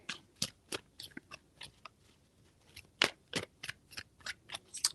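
Tarot cards shuffled in a series of crisp, riffling bursts and slaps, several quick shuffles in close succession, near and clear with no talking.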